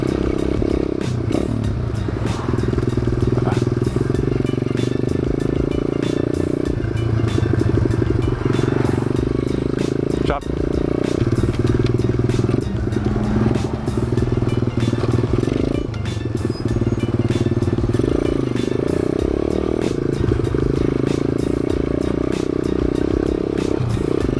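Thumpstar 140cc dirt bike ridden slowly on a flat tire: a steady, loud, close single-cylinder engine drone with clattering over bumps, and a rider speaking at times over it.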